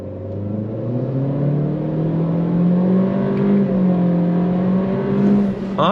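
A 2023 Acura Integra in sport mode accelerates hard on throttle, its engine note climbing steadily in pitch for several seconds, loud and close from inside the cabin, with a brief lift near the end.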